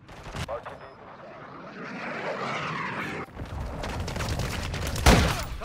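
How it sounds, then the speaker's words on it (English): Cruise missile launch in Call of Duty: Modern Warfare II, a rising roaring whoosh that swells over a few seconds amid scattered gunshots, then a sharp, loud explosive boom near the end. "Hostiles, launch the cruise missile!"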